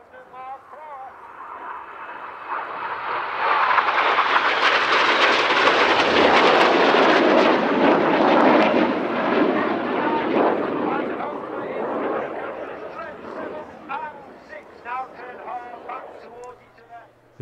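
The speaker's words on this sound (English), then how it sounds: "Red 6 to 9 bear down on each other for the Hannah Pass" Red Arrows jets flying an aerobatic display at the RAF Cosford Air Show 2024, a roar that swells from a distance to a loud pass for several seconds and then fades away, with a commentator talking over it.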